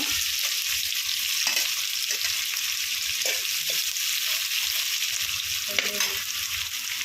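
Chana dal and onion fry in a pan for carrot palya, a loud continuous sizzle heard up close, broken by repeated stirring scrapes, with no talking.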